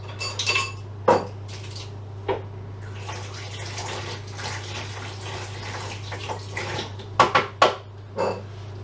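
A spoon clinks and scrapes against a bowl as chicken, ham hock and mustard pot pie filling is mixed, with scattered sharp knocks and softer wet stirring between them, close but fairly quiet over a low steady hum.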